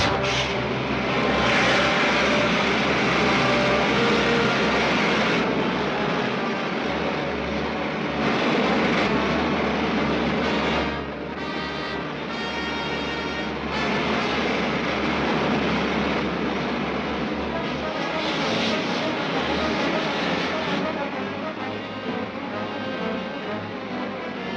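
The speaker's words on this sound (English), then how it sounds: "Fire main jets." Rocket main jets firing as a 1950s sci-fi film effect, a loud, sustained roaring blast that holds steady for many seconds with slight surges, dense and near.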